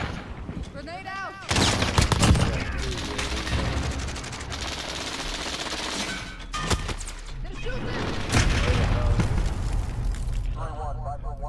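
Grenade blast and gunfire in a laggy Call of Duty Modern Warfare online match: loud broadband bursts and rattling shots hit around two seconds and again later, mixed with game voice callouts and steady battle noise.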